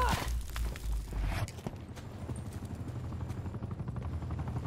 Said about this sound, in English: Because I'm already calling in a strike team and a chopper gunner.